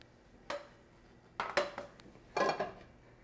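A big metal skillet set and shifted on a stove burner gives three separate clanks and scrapes, close and fairly loud, spaced apart with quiet between them.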